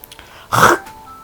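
A single short, rough throat-clearing cough, close and loud, lasting a fraction of a second in an otherwise quiet space.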